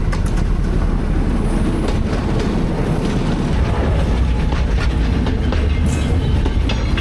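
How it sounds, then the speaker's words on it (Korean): A train rumbles along a railway line heading toward Poipet, a heavy continuous low roar with clattering wheels, close and loud throughout with no talking. "저쪽에서 지금 기차가 오고 있습니다."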